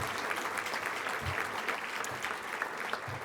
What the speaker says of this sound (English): A career, you can clap for that.